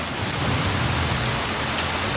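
Heavy monsoon rain pours down in a dense, steady roar, loud and constant with no pauses, a continuous hiss of water hitting surfaces and no voices.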